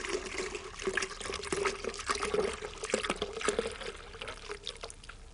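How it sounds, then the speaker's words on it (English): A litre of orange juice poured in a kitchen, a continuous liquid splash and gurgle lasting several seconds at close range with no talk. "First in, a litre of orange juice."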